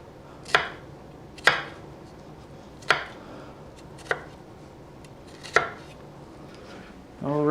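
A knife chops onion and broccoli for cheesy broccoli soup, six sharp, evenly spaced thunks on a cutting board over a quiet room, followed by a brief clatter at the end.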